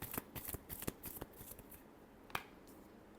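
Tarot cards being shuffled by hand, a quick series of soft riffling snaps and flicks, close and fairly quiet, with one sharper snap before trailing into near silence.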